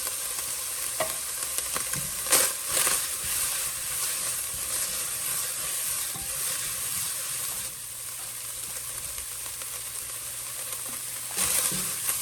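Garlic with salt, pepper and red pepper flakes sizzling in a pan, a constant hissing fry with occasional stirring scrapes and clinks, close and moderately loud, no talking.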